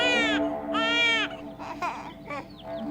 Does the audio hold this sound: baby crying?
yes